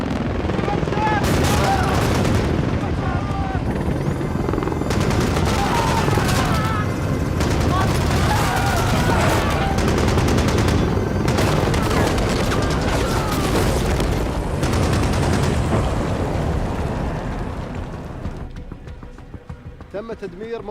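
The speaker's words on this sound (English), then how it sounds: "now we are going to get some explosions and stuff." Loud bursts of gunfire and booming explosions hit in quick succession, dense and chaotic, with voices shouting underneath before the din eases off at the end.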